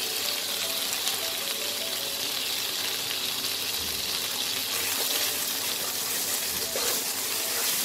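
Ground spices with salt, sugar, Kashmiri chilli and turmeric frying in a kadai for kadai paneer, a dense, steady sizzle that stays loud and close throughout without pause.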